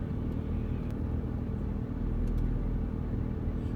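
Steady low rumble of car engines idling and creeping in a traffic jam, heard from inside a vehicle, continuous and close with no talk.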